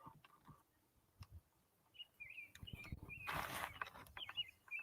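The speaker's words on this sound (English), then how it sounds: "You hear the birds singing?" Birds chirp and sing outdoors on a warm, sunny morning amid lush greenery, with short scattered calls rising over a low background rumble and a brief burst of broadband noise partway through.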